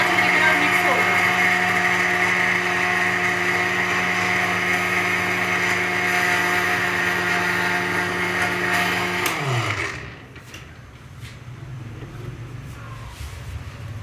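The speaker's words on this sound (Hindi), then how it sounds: "ऐसे भी अच्छी तरीके से ग्राइंड कर देना ताकि सारे अच्छे तरीके से मिक्स हो जाए" An electric grinder whirs steadily while grinding a chicken mixture for white karahi. The loud, even motor drone holds for about nine seconds, then winds down and stops, leaving quiet room noise.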